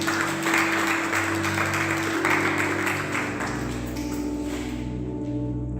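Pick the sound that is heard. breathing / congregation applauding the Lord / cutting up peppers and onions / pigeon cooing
congregation applauding the Lord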